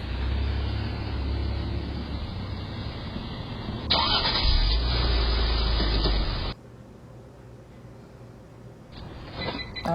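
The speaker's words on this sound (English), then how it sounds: "This time I'm moving my vehicle." A car moves forward with its engine running: a steady motor rumble that grows louder and rougher for a few seconds, then drops abruptly to a quieter idle-like hum, heard close by.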